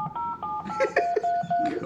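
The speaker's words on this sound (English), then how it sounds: "You can hit redial." Telephone redial sends a quick sequence of touch-tone dialing beeps, each a short, clear tone in a steady rhythm, while people talk over them.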